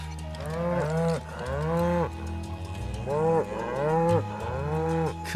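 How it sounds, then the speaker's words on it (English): Cows on a farm in Final Fantasy 7 Rebirth giving several long, drawn-out moos, some overlapping, in fairly close repeated calls over a low background hum. "We got cows."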